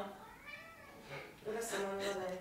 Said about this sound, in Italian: Dove sta il miagolo?